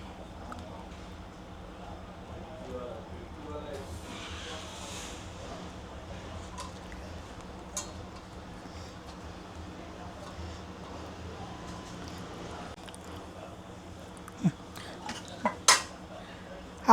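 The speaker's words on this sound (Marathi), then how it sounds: "मी मच्छीचे पीस टाकते त्याच्यात आता" Pieces of katla fish go into a pot of boiling masala curry. A low steady hum runs throughout, with soft utensil and pot clinks that grow sharper near the end.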